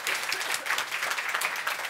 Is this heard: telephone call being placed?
no